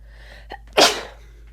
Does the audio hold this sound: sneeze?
yes